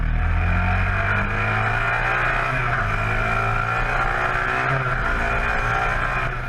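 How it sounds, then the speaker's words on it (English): Demonstration motorcycles, including a Matchless G50 racing bike, ridden at a motorsport festival, giving a loud continuous engine roar with shifting pitch and a steady drone throughout. "It's time for the demonstration bikes."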